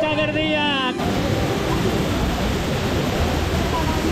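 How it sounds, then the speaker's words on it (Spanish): A waterfall on the Río Verde near Otívar, Granada roars as a loud, constant broadband rush of falling water, with brief voices over it at the start. "ese pedazo de cascada de la Pierre Cardin"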